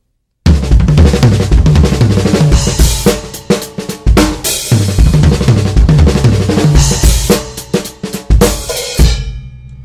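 A fast drum fill built on six-stroke rolls moves across snare and toms with sharp accents, played loud and close for several seconds before ringing out.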